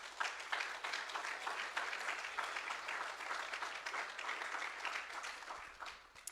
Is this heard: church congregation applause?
yes